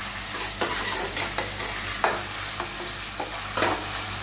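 Onions and ginger paste fry in oil while being stirred for mutton biryani, a steady close sizzle broken by several scraping stir strokes.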